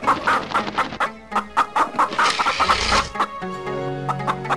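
A hen clucks in a run of short, rhythmic calls close by, with a busier stretch of farmyard noise in the middle before the clucking settles again, with no talking.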